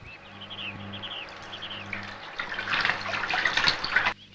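Water splashes and runs while a vehicle is being washed, a steady watery hiss that builds louder before cutting off abruptly, with birds chirping faintly in the background.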